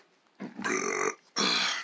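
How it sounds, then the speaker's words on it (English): Two short, throaty burps come in quick succession at close range, the second one slightly louder, with near silence around them. "Nice burp. Not as weak as mine."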